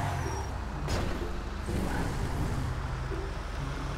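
A truck passing in GTA V with air brakes: a sharp hiss bursts out near the start over a low, continuous traffic and engine rumble, with a softer hissy accent later.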